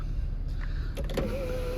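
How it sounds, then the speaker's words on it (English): Electric motor of a Hyundai Veloster 1.6 GDi Sport panoramic roof whirring briefly as the roof tilts open inside the car, heard close and steady over a low engine idle hum. "Tilt side panoramic roof."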